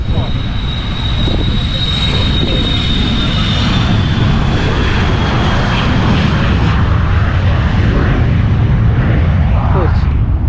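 An aircraft takes off at an international airshow with a loud, continuous engine roar that stays strong for the whole stretch, while someone talks over it.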